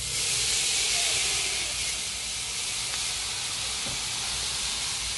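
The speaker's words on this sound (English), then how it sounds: "we're going to steam that in there" Steady broadband hiss of water steaming under a dome on a hot Blackstone griddle, constant and fairly loud throughout with no voices.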